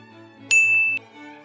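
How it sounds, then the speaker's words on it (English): A single bright notification bell ding rings out clearly for about half a second over a quiet background with a faint low hum, then fades. "That's the bell."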